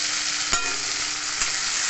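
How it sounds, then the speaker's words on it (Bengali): Chopped tomatoes fry with ginger, garlic and onions in a pan for paneer bhurji, making a loud, continuous sizzle with two brief stirring scrapes, and no voices. "টমেটো দিয়ে ভালো করে ভেজে নেবো।"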